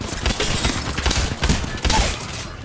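Rapid bursts of gunfire from the battle royale game Apex Legends, dense and overlapping in a loud, continuous fusillade with heavy thumps, under no speech.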